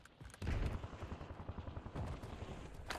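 Gunfire in the video game Warzone: a sustained burst of rapid shots with heavy low-end booms, pausing briefly then resuming, loud and close with no talking.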